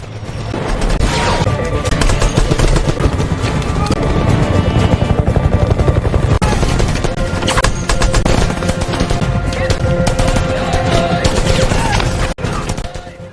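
Dense, continuous machine gun fire from soldiers in a film fills the scene, rapid bursts layered with loud booms and crashes, constant and intense throughout.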